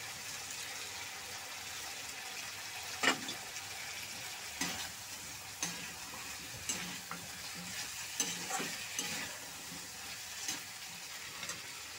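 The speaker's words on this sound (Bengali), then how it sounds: "আমি ভালো করে একটু ভেজে নিচ্ছি মশলাটা দিয়ে" Cauliflower frying with spices in a pan, a soft steady sizzle at low level with occasional spatula taps and stirring scrapes spread through.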